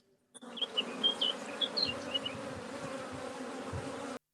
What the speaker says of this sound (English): Hearing the bees fly around Mark at the same time as talking to us